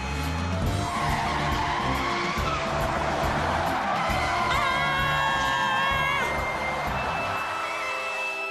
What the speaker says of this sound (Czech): Teď šlápni na brzdu, Penny.